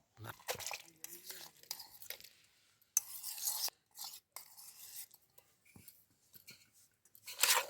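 Homemade cream is stirred in a pot to make ghee, with intermittent scraping and knocking strokes of a utensil against the vessel, separated by short pauses, and some talking in between.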